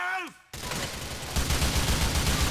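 A rapid burst of video game gunfire in GTA IV crackles loudly and continuously after a brief tonal sound and short pause, dense and sustained to the end.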